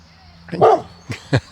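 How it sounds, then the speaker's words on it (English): A dog in a Penzance cemetery in Cornwall gives a single whining bark followed by several short, clipped barks nearby, fairly loud against quiet outdoor background. "There's a dog."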